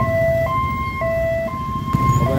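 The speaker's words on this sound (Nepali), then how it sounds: "कस्तरी साइरन बजाइरहेछ" An ambulance stuck in a traffic jam sounds its two-tone siren, alternating evenly between high and low pitches about every half second. The siren is fairly close, with a low rumble of road traffic beneath it.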